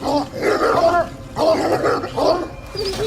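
Hunting dogs growl and snarl in close, loud bursts as they hold wild hogs, three rough surges separated by short pauses.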